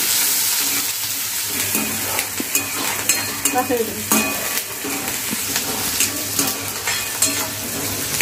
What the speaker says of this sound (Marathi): आपल्याला लगेच यामध्ये कांदा घालायचा आहे, त्यालाही चांगलं फ्राय करून घ्यायचं आहे